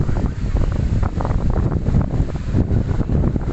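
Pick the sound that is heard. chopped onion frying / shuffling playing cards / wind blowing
wind blowing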